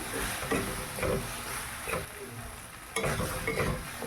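Okra and tomato are stirred in a hot pan, with rhythmic scraping strokes about every half second over a soft sizzle, close and fairly loud, without speech.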